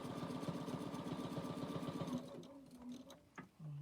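A sewing machine stitches at a steady fast rhythm for about two seconds of rapid mechanical pulses, then stops, leaving a few soft clicks and handling noises, close and fairly quiet.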